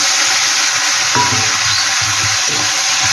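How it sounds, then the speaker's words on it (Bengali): Ground onion paste fries in a pan with cumin for a Bengali chela fish curry, a steady loud sizzle with occasional scraping stirs. "পেঁয়াজটা দিয়ে আমি হালকা করে একটু ভেজে নেব"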